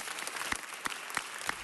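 A city council meeting audience gives soft, sparse applause, quiet and distant, with a few louder individual claps standing out.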